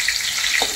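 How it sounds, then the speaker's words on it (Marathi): Garlic and red chilli pieces crackling in hot oil, a close, bright, continuous sizzle with no voices. "तर आता मी लसूण घातलेली आहे, लाल मिरच्यांचे तुकडे घेतलेत ते घातलेत"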